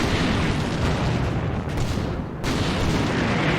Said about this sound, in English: the end of the mortar bombardment